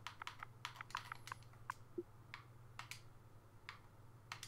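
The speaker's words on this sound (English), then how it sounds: "For taking off fly, you need to type in walk." Someone types a short command on a computer keyboard in a quiet room, with a burst of close, light key clicks and a few scattered taps afterward.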